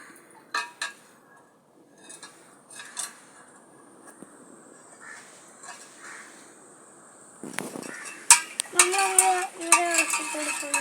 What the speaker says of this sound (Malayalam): ഷുഗർ നമ്മൾ ഷുഗർ ഇങ്ങനെ ഇളക്കി കൊടുക്കണം.